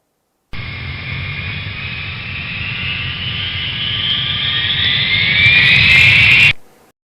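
A jet airplane roars past, its loud engine whine rising in pitch and intensity over about six seconds before stopping abruptly.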